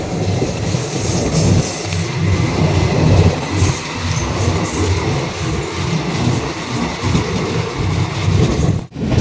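A train rumbles steadily past, loud and close, on a rail journey from Howrah to Haridwar, with continuous wheel and carriage noise and a brief dip near the end; no talking.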